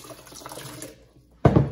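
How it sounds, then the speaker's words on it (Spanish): Water pours into a blender jar for carrot, orange and lemon juice. A soft trickling splash is followed by a short pause, and then a louder, fuller gush of liquid splashes in close up. "Vamos a agregarle aquí tantita agua."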